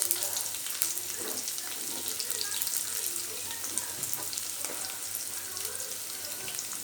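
Onions and dried red chillies frying in oil for Tamil egg rice, a continuous crackling sizzle at moderate volume with a low steady hum beneath and occasional stirring clinks, no one talking.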